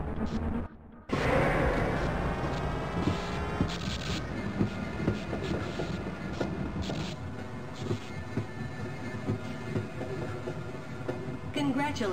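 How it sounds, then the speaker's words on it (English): A tram-style train in the Half-Life Hazard Course training level rumbles and clanks as it moves, with a continuous mechanical drone and scattered metallic knocks following a brief drop-out near the start. "Press your use key to engage the train."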